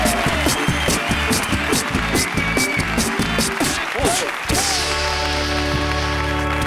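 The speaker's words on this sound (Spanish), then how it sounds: "Y un aplauso para Ibai." Studio audience on a Spanish late-night talk show claps in a dense, steady burst that holds for several seconds, then gives way to a sustained musical tone near the end.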